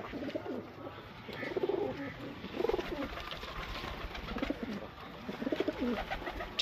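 Highflyer pigeons in Lahore coo in soft, repeated rolling phrases at a moderate distance over a hissy background, with no talking.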